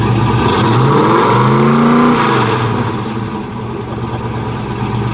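The 427 V8 engine of a 1966 Chevrolet Caprice revs loudly, pitch climbing and then falling back, before settling into a steady rumbling idle.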